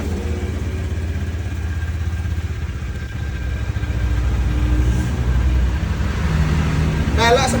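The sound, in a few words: Honda Scoopy 2017 motorcycle engine running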